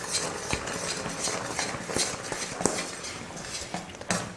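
Milk powder being stirred into sugar syrup in a pan: continuous scraping and clinking of a spoon against the metal pan, with irregular sharper knocks throughout, close and moderately loud.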